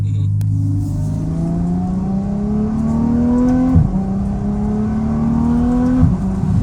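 A 2016 Ferrari F12 Berlinetta V12 with an FI exhaust and its valves open pulls hard through the gears, the engine note climbing steadily, then dropping sharply at each upshift before rising again, loud and close.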